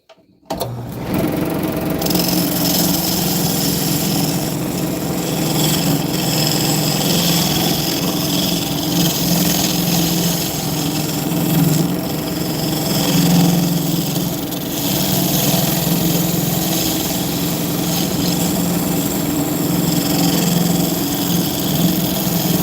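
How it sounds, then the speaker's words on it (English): A square carbide tool cuts a lip on a spinning workpiece, giving a loud, continuous motor whine and scraping hum that starts abruptly and runs steadily with slight swells for over twenty seconds. "I'm gonna use my square carbide for that."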